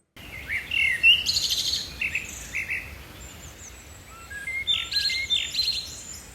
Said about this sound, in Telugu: పక్షులు చక్కగా అరుచుకుంటూ వెళ్తున్నాయి